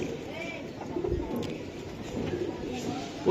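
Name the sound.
giribaz pigeons cooing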